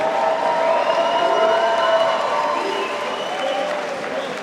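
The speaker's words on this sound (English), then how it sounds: "Ladies and gentlemen, another round of applause for these two warriors tonight" Arena crowd applauds two fighters after a five-round bout, a steady wash of clapping and cheering that gradually eases, with a faint announcer's voice underneath.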